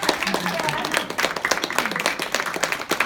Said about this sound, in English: Oops, clap it for her.